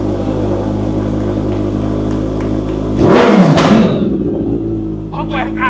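A motorcycle engine idles with a steady low hum, then abruptly revs up loudly before settling back down; a voice is faintly audible afterward.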